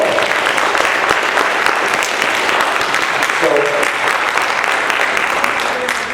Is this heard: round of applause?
yes